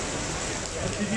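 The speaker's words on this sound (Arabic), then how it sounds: "الدنيا بتشتي جامد يا جماعة" Heavy rain pours steadily at an outdoor Egyptian market in Turkey, a dense hiss of falling water throughout a short moment, with a faint voice underneath.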